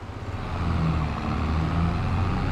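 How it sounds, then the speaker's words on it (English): Loud, droning tractor engine in a farming video game, a steady low rumble with a slight rise in level after the start, playing alone without talk. "these sound effects that come up at the moment, I can hardly hear them, because this tractor's so freaking loud"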